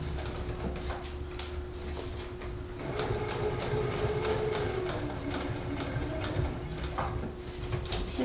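Sewing machine stitching an inside pocket into a vest close to the edge, a steady rapid mechanical ticking run at moderate volume, close by, with a faint background hum.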